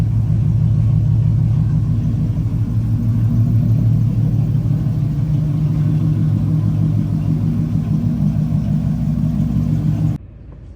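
A Dodge Charger SRT8 V8 idles close by with a deep, loud, steady rumble and a slight rhythmic lope, then cuts off abruptly near the end.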